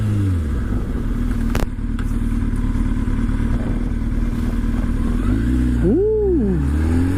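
A motorcycle in first gear with the throttle dumped for a power wheelie, its engine droning steadily nearby under wind noise, then revving sharply up and back down near the end.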